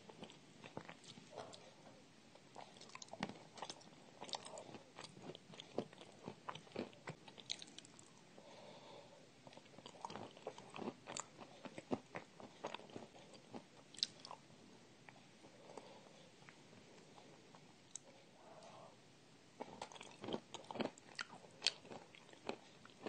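Soft, close-up chewing and biting of a cream dessert continues steadily for a long stretch, with moist smacking and occasional faint crunchy clicks; no talking.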